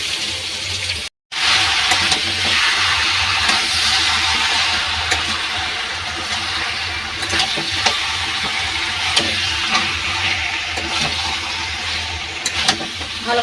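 Mutton pieces, including leg pieces, hiss and sizzle steadily in a hot pan with fried onion and garlic, stirred now and then, a loud continuous frying sound with small scraping clicks.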